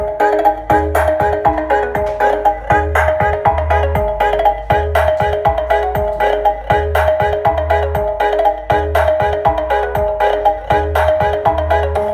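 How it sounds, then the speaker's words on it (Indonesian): A loud, repeating melodic phone notification tone, a short bright figure cycling steadily over and over with a deep pulsing bass under it, played close through an Ashley LF15 V400 speaker. "SMS masuk lagi bos."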